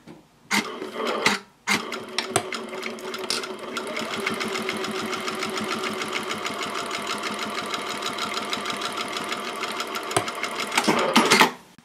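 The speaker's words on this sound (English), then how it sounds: "Now I'm going to top stitch across the top of the exterior pocket." A sewing machine top-stitches across the top of a fabric wallet's exterior pocket, running in a loud, steady mechanical whir for about ten seconds, broken by short bursts and pauses at the start and end.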